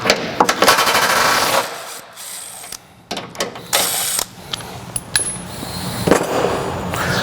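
An 18mm socket on a ratchet works a bolt loose on a Ford Bronco bellypan skid plate, rapid ratchet clicking followed by scattered metallic taps, clunks and scrapes, close and loud with brief pauses.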